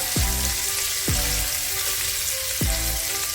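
Bacon frying in bacon grease, a loud close dense sizzle and crackle running throughout, with three brief low thumps or swoops cutting through, no one speaking.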